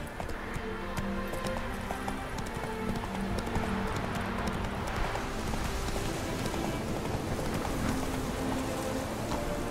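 A horse gallops in the video game The Witcher 3, with a steady, rapid clip-clop of hooves over a continuous rain-like patter of background noise.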